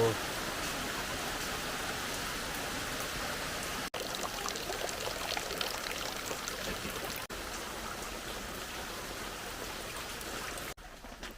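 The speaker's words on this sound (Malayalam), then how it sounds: "നല്ല കിടുന്ന മഴയാണല്ലോ" Heavy rain pours in a dense, steady roar, close and loud, broken by a few brief dropouts.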